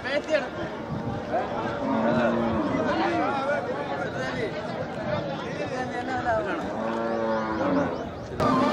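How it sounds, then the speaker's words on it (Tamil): Sindhi cattle at the Melapalayam cow market during Mattu Pongal, with close, busy chatter of bargaining people filling the scene and cattle sounds mixed in under the voices. "ஆமா, நல்ல சிந்து மாடு"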